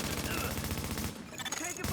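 Video game gunfire: dense, loud, continuous automatic bursts that rattle without a break and dip briefly before resuming.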